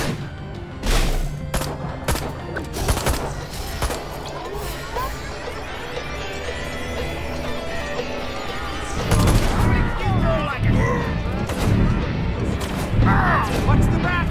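Rapid bursts of gunfire and sharp impacts from the PC video game Destroy All Humans 2, loud and repeated, with occasional in-game voices mixed in.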